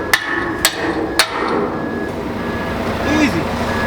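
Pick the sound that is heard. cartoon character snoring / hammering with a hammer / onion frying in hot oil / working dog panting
hammering with a hammer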